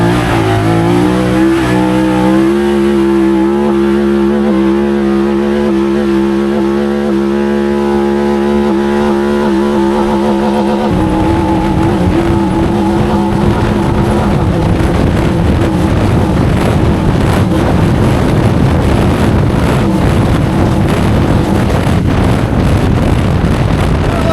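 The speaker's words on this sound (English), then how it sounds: "I do love the grabbing gears and the way the rev limiter sounds" A stock 2024 Honda Talon side-by-side UTV engine revs hard and bounces off the rev limiter, with choppy, stuttering bursts over rushing wind noise, loud and close throughout.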